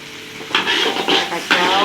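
Fried rice vermicelli with sweet soy sauce is sautéed in a pan, producing bursts of bright sizzling and scraping strokes in an uneven rhythm, close and fairly loud.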